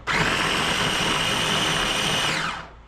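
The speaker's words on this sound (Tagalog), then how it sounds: "And then, mag-blender na tayo" A kitchen blender whirs loudly at a steady high pitch for a few seconds, then winds down and stops.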